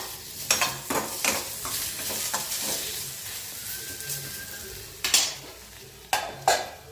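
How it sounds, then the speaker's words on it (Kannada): Salted potato pieces frying in a pan at home sizzle steadily while a metal spoon scrapes and knocks against the pan in sharp bursts, close up and with no one speaking. "ಉಪ್ಪನ್ನು ಹಾಕಿದ್ಮೇಲೆ ಸರಿ ಫ್ರೈ ಮಾಡಿ."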